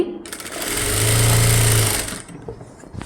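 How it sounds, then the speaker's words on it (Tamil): A sewing machine stitches the shoulder seam of a blouse in one fairly loud, steady burst of about a second, with a whirring rise and fall. Soft handling noises come before and after. "ஸ்டிச் பண்ண ஆரம்பிக்கலாம் ஷோல்டர் ஸ்டிச் எப்போவுமே அரை இன்ச்சில் ஸ்டார்ட் பண்ணுங்கள்"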